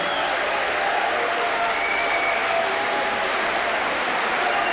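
A boxing crowd applauds after a round of an Ireland v England fight, a dense, steady wash of clapping that fills the whole stretch at close, even loudness.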